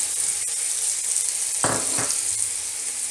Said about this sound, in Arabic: قوم الآن بإضافة بصل